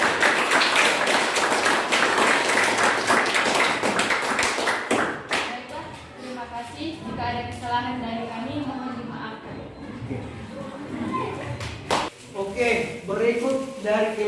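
A classroom audience claps for a group presentation, with a burst of loud, dense applause that fades into scattered claps under a speaking voice.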